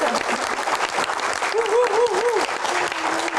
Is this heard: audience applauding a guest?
yes